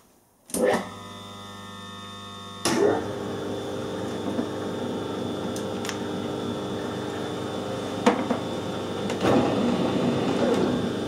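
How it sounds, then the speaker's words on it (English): A metal lathe set in a low gear for screw cutting starts up with an abrupt thump, then settles into a steady mechanical hum with occasional clicks and a louder clunk, close and continuous. "I want the lathe in a nice low gear."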